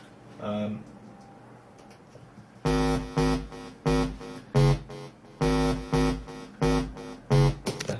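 After a short talking snippet, a buzzy synth bass preset called Hands Up Detroit pumps in a steady rhythmic pulse of short and longer notes, loud and upfront.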